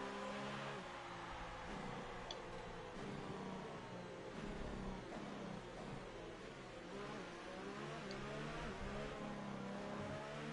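F1 race car engine from the F1 2018 video game, heard during a formation lap at Bahrain: a steady, loud, dense engine drone with shifting harmonic tones and no speech over it.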